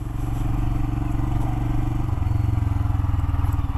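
A Royal Enfield Himalayan 411cc motorcycle rides off-road on a dirt path, its single-cylinder engine thumping in a steady loud rhythm, close up, with rattling and clatter over the rough ground and a slight rise in revs partway through.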